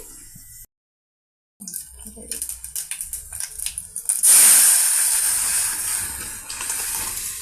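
Clicks and rustles lead into a sudden loud sizzle as tempering spices meet sambar, the hiss then fading gradually.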